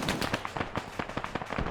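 A rapid series of sharp blasts and cracks from combat in the video game Arma 3, a dozen or so irregular bangs of mixed strength, some close and punchy, others softer and farther off.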